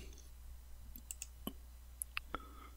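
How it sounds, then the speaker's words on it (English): Several sharp, quiet clicks spaced irregularly over a faint steady hum, like a computer mouse being clicked. "let's right mouse click on the base here and select isolate"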